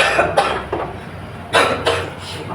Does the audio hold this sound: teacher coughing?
yes